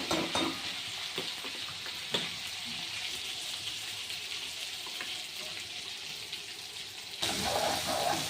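Green masala paste of ground coconut and plenty of garlic, with curry leaves, sizzles as it is sautéed in a pan. The frying hiss is steady and close, with scraping stirs and a louder burst near the end.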